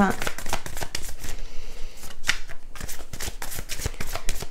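Oracle cards are shuffled close up, giving a quick, crisp run of riffling and slapping strokes that carries on through the whole stretch, with no voice over it.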